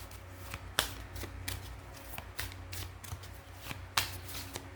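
Tarot cards are shuffled close by in a quiet room, soft papery riffles and sharp flicks repeating at irregular intervals with no one speaking.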